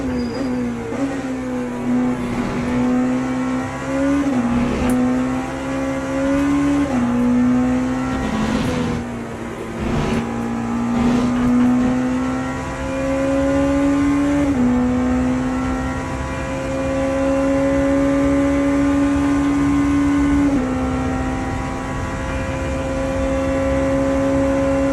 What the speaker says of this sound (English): Just overdriving the car a little bit on the entry.